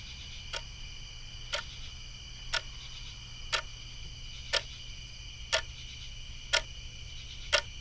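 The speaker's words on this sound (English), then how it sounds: "A grandfather clock inside a farmhouse up the road from the tracks ticks on quietly" A grandfather clock inside a farmhouse ticks at a slow, even pace of about one sharp tick per second. The ticks are crisp and close, with a low hum underneath and nothing else sounding.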